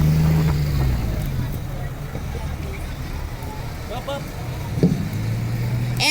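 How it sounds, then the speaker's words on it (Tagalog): A rescue ambulance of the MDRRMO Guinobatan approaches in a commemoration parade, its engine rumbling low and close under an announcer's amplified talk and crowd murmur, with a brief rise in noise near the end. "approaching also is the rescue ambulance of the"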